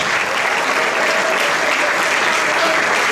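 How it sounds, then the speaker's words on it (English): Loud, steady applause fills an awards ceremony hall for a school stagecraft prize, a dense crowd clapping continuously at close range with no break. "Round of applause, one more time"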